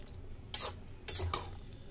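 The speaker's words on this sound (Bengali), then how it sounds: "ঢেলে দিয়ে ভালো করে মিশিয়ে" Boiled ghugni peas being stirred into fried spice paste in a pan, with a few short scraping clinks of a spoon against the metal over a low, faint sizzle.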